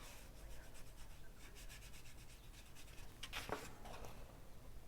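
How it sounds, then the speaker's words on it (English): Quiet scrubbing of a fountain pen ink swatch on paper, soft repeated rubbing strokes that stay close and faint, with a brief sharper scratch near the end. "I'm scrubbing here"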